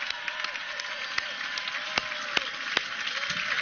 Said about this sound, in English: So let's give a big round of applause for all of us.